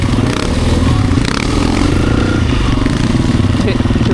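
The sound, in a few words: supermoto motorcycle riding on one wheel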